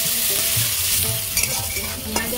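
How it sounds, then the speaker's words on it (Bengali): Chopped onions and slit green chillies frying in leftover fish-frying oil with five-spice, a continuous close sizzle broken by scraping stirs of a spatula in the pan. "পেঁয়াজ আর লঙ্কা আমি ভাজা ভাজা করে নিয়েছি"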